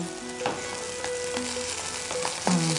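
Vadiyalu, sun-dried fritters, fry in hot oil with a steady close sizzle, broken by a few sharp stirring scrapes and taps against the pan, no voices present.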